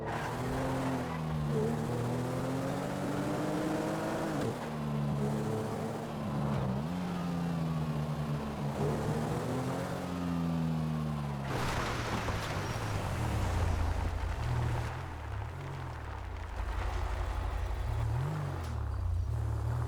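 A car in GTA 5 drives continuously, its engine whining and rising in pitch through acceleration, with tire squeal and skidding as it corners, then settling into a lower, rougher rumble.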